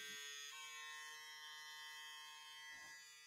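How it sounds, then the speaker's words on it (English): A newer Braun Series 5 electric shaver with a turbo mode runs steadily close by, a constant buzzing hum whose pitch shifts up slightly as it keeps going, with no talking. "it is the newer Braun shaver. The newer Series 5."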